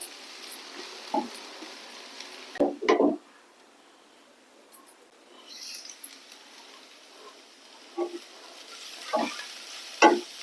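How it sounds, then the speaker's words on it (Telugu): Tamarind leaf curry is stirred in a pan, with a few brief scraping and clinking strokes of a spoon spaced apart over a faint, quiet background. "ఇదంతా ఒకసారి కలుపుకొని మూత పెట్టుకొని ఉడికించుకోవాలి"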